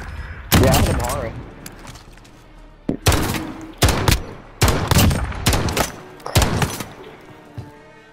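Gunfire in a multiplayer shooter video game comes in several loud, close bursts of rapid shots with short pauses between them, and a voice talks faintly under the shooting.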